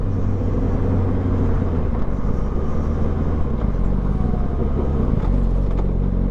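A motorcycle cruises steadily along a road in traffic, its engine a constant loud low rumble with wind noise, heard close from the rider's position without a break.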